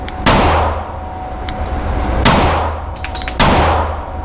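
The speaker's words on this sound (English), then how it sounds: "We're gonna do 2 shots center mass." Gunshots at a shooting range, with three loud, sharp reports ringing out at irregular intervals, each followed by a short decay and a faint metallic ring from the target, with no talking.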